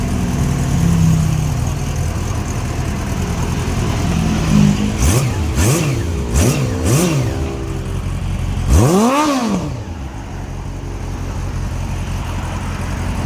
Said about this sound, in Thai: ตอนติดง่ายนะทีเดียวติดเลย เครื่องเงียบดี